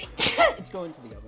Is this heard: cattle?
no